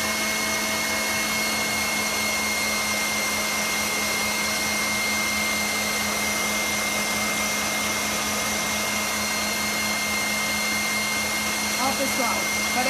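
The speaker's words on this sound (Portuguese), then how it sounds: "Voltando aqui, ó, a nossa batedeira. Ó, eu vou aumentar a velocidade máxima" An electric stand mixer runs at maximum speed, beating a sweet mixture, a steady loud motor whine that holds unbroken throughout with no talk over it.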